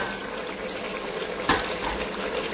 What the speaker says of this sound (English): our onions have been sauteing for about 5 to 8 minutes